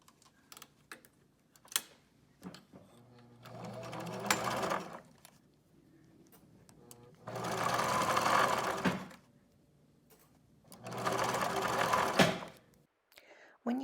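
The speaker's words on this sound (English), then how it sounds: "now we're just going to stitch that into place" Sewing machine stitching piping cord onto the round end pieces of a bolster pillow cover: three sustained whirring runs of rapid stitching, each several seconds long, separated by quiet pauses with small handling clicks and soft speech.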